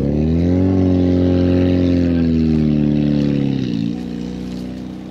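A Renault 19 stock car runs at a race in Torsac, Charente, its engine holding a loud, steady droning note. The pitch dips and eases off about three quarters of the way through.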